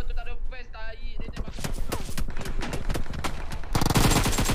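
Automatic weapon fire in a shooter video game, rapid bursts of shots stacking into dense fusillades, with a voice talking early on before the firing takes over and a loud burst near the end.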